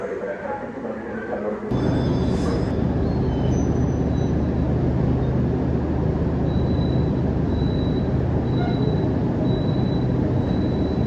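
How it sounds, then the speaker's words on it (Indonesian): The Argo Semeru train departs from track 2 at an Indonesian railway station, its loud, dense rumble rising abruptly and rolling on steadily, with faint tonal whines above. "ini kereta api Argo Semeru akan diberangkatkan dari jalur 2"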